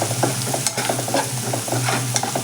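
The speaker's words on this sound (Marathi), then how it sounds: "आता हे व्यवस्थित आपण असं फ्राय करून घेऊया लसूण आपला परतत आलेला आहे" Crushed garlic and coriander stems frying in a pan as the base for an eggplant curry, with a bright sizzle under frequent, rhythmic clinks and scrapes of a spoon stirring the pan.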